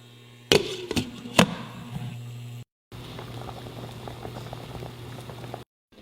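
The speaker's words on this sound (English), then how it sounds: "stick it in my pot, and boil it for like 7 minutes" Cut cauliflower boils in a pot of water with a steady, busy bubbling and simmer close by. A few sharp knocks sound near the start, and no one speaks.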